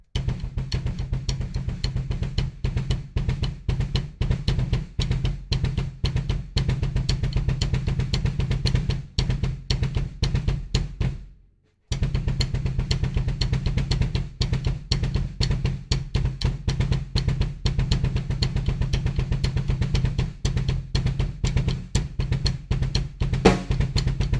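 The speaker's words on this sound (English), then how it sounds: "switch between just single stroke rolls with the kick drum to the two different gallops" Rapid, continuous double kick drum strokes in steady driving gallop patterns, loud and close, with a brief pause midway before the rhythm resumes.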